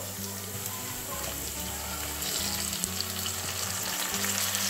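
Onion, chili and tomato sautéing in a pan for soybean bhurji, a dense, continuous sizzle of frying close up that grows slightly louder midway, with no voices.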